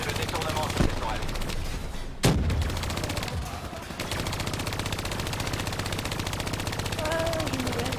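Sustained machine-gun fire from a hijacked turret in Call of Duty Black Ops 3, rapid continuous rattling bursts with a sharp impact midway, while voices and game sounds run faintly underneath.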